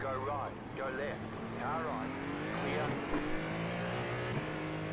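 A race car in a racing video game brakes hard, its engine whine dropping in sweeping pitch while tires squeal, all under continuous excited talking.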